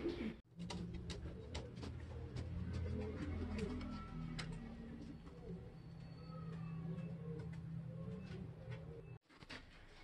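Pigeons coo in low, repeated murmuring calls close by, a steady layered cooing that runs nearly the whole stretch with occasional light rustles.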